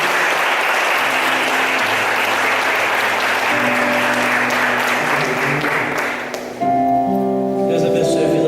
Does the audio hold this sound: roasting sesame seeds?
no